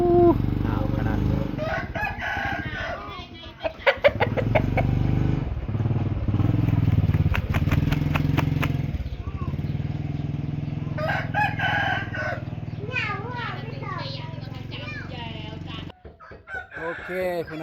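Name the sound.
chickens and rooster crowing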